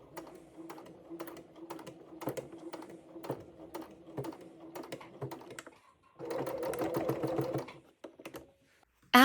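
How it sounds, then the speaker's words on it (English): A sewing machine stitches across a piping seam join on a quilted, padded laptop sleeve, running in short rhythmic bursts, then a steadier fast run, then a brief stop before a final short buzz. "I sew across the join and slightly onto the stitching I started with, finishing with a small backstitch"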